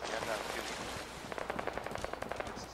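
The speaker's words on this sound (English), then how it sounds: "But I hear a bullet, I hear gunfire." Gunfire in the video game Fallout 4: a rapid, evenly spaced burst of automatic shots crackles after a stretch of muffled noise, each report sharp but fairly distant, with a voice talking faintly underneath.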